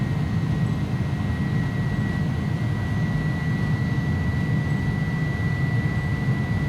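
Twin jet engines of an A300 airliner roar steadily during the takeoff roll in the X-Plane 11 flight simulator, a loud, constant broadband rumble with a thin high whine running throughout, no voices.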